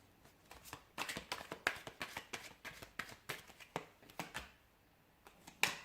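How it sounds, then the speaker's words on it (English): Quiet, repeated riffling and soft taps as a deck of tarot cards is shuffled, in quick irregular bursts, close by and without speech. "I'll give the cards a shuffle."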